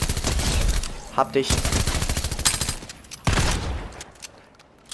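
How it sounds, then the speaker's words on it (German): Gunfire in Fortnite Chapter 4, a loud rapid burst of automatic shots followed by further cracks and another volley, close and dense, with a German-speaking player talking briefly over it. "Oh Gott, von wo kam der Schuss jetzt?"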